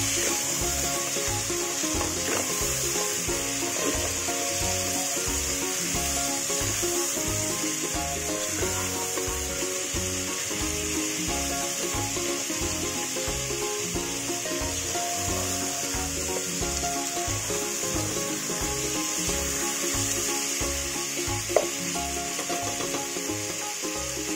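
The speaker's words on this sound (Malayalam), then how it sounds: "നല്ല ഹൈ ഫ്ലെയിമിൽ ഇട്ടിട്ട് തന്നെ നമുക്ക് കുറച്ച് നേരം ഇത് ഫ്രൈ ചെയ്തെടുക്കണം" Masala chicken frying on a high flame makes a loud, steady, close sizzle with a rough rhythmic scraping texture running throughout, and no voices.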